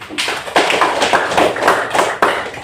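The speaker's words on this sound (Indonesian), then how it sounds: "Tepuk tangan untuk Nabil." A classroom of students claps for a classmate who answered correctly, a burst of quick, fairly loud hand claps with a few accented beats, fairly close.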